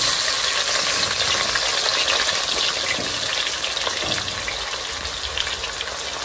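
Masala of cumin, black pepper and onion fries in a pan with a steady, loud, dense sizzle that holds without a break, close up and with no voices.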